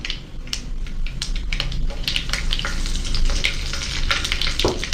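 Fenugreek, curry leaves and green chillies frying in hot oil for a Jaffna brinjal milk curry, a busy close crackle of sharp pops and sizzles over a steady hiss, with no talk.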